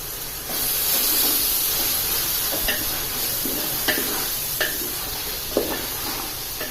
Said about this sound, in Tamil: எல்லாம் நல்லா வதங்கி வர வரைக்கும் நல்லா கிளறி விடலாங்க